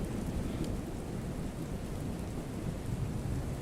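Steady rain falls with deep rolling thunder underneath, a dense, continuous wash of sound with no voices.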